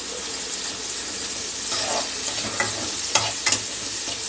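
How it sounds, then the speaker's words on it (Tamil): Chopped tomatoes fry in a pan for a Tirunelveli-style fish curry, a loud continuous sizzle broken by several sharp scraping stirs near the end. "இப்போ தக்காளி வதங்கிடுச்சிங்க"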